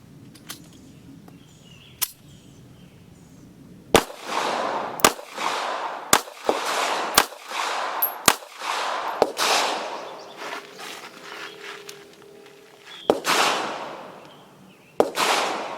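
A Taurus PT738 pistol fires .380 Auto rounds, about a dozen sharp reports spaced irregularly, some in quick pairs and others after pauses, each ringing out with an echoing decay.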